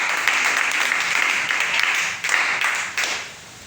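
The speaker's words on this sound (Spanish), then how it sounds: "Le puedo dar un fuerte aplauso al Señor en esta hora" A church congregation claps loudly for the Lord during a Spanish-language service, with dense, steady applause that fades slightly at the end.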